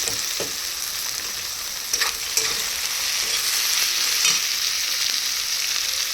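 Tomatoes go into a pan of frying chicken, bringing a bright, steady sizzle with a few sharper crackles and light stirring scrapes, close and continuous with no voices.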